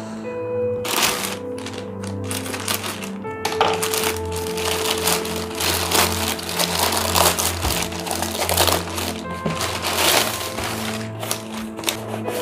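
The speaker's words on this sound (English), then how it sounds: "I will quickly unbox this." Power bank packaging being unboxed by hand, close-up crinkling, crushing and tearing of cardboard and plastic with irregular clicks and rustles throughout, no talking.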